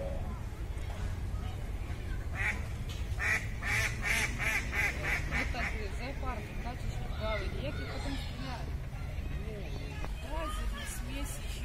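Ducks quack repeatedly in a busy flock at a zoo feeding area, the calls overlapping and fairly close, while people talk at the same time.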